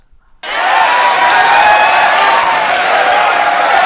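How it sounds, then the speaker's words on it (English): A crowd breaks into loud, dense applause with some cheering, starting abruptly after a brief silence and holding steady for several seconds. "Somebody give me some applause."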